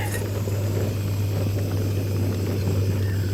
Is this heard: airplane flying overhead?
yes